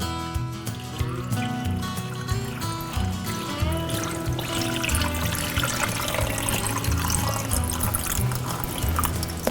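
Water runs steadily from a sink tap into a glass as it fills toward the top, a continuous loud close pouring and gurgling with rising pitch and no talk.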